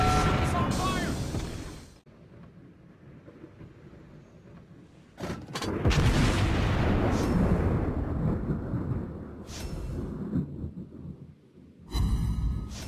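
Naval gunfire and shell explosions from the World of Warships Blitz video game: heavy booming blasts with rumbling decay, one sharp hit early, then a long roaring explosive stretch and further bursts, loud and close with no talking.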